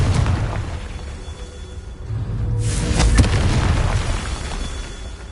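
A Confringo fire spell explodes in Hogwarts Legacy, a booming blast that rises out of a dense rumbling game soundscape, loud and close.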